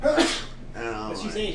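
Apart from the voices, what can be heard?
sneeze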